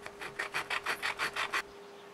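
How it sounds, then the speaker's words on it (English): A miniature's feet and a wood chip are sanded flat by hand, giving eight quick, even rasping strokes close up, each a short scratchy rub, then quiet. "so I sanded down the mini's feet and the wood chip to make them flatter"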